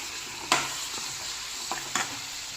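Tomatoes and onions fry together in a pan for a vegetable curry: a continuous sizzle, close up, broken by a few sharp stirring clacks.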